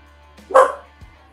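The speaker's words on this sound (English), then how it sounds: "the dog barking at somebody going past" A dog indoors gives a single loud, sharp bark at someone passing the house. Quiet room tone comes before and after it.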